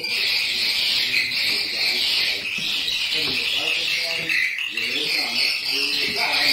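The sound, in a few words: swiftlet calls in a swiftlet nesting house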